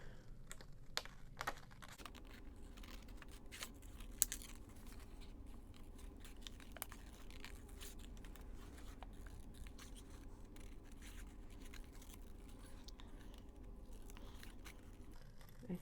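Scissors cutting out paper scraps for handmade tags, producing faint, irregular crisp snips and crunches close by with no talk.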